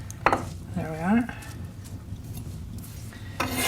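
Dried dulse seaweed chopped on a kitchen board: a few sharp knife taps and scrapes, close by, separated by quieter rustling, with a short burst of voice-like sound partway through.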